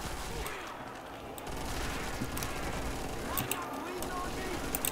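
An MG42 machine gun fires in Call of Duty Zombies in quick, sharp bursts. Steady game background noise runs underneath, and a voice talks throughout.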